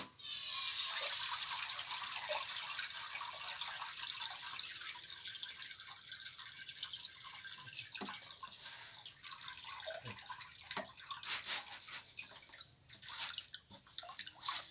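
Water runs and drips while rice seed is rinsed two or three times in clean water after a salt-water float, a steady splashing trickle close by with scattered drops and no talk.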